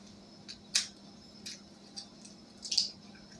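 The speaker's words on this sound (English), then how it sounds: "Now we're going to crack these eggs in here." Eggs are cracked one after another into a bowl: a handful of quiet, sharp taps and cracks with brief wet squishes between them, spaced out over a few seconds.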